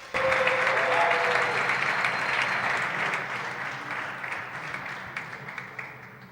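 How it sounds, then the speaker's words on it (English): Applause from the audience at the squash final of the PSA BDO Namibian Open 2025, a dense, steady wash of clapping that starts loud and slowly thins out over several seconds. "Can we give ourselves a round of applause for this amazing appearance?"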